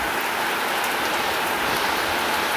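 Steady rain falls in rural Bangladesh on an autumn morning, a dense, even hiss of drops on surfaces, close and continuous with no voices.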